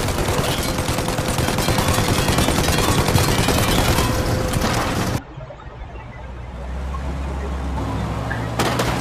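Dense, rapid gunfire roars nonstop in the Mafia video game for about five seconds, then cuts off abruptly to a low rumbling background with a faint hiss.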